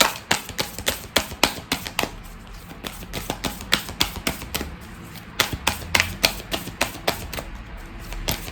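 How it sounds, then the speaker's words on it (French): An oracle card deck being shuffled by hand, close and crisp, a rapid run of sharp riffling clicks and taps in irregular bursts with short pauses between them. "pendant que je bats l'oracle"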